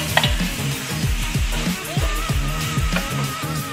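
Beef, onion and garlic stir-frying in a wok, with sizzling throughout and a steady rhythm of stirring scrapes and clanks, loud and close, with no talk.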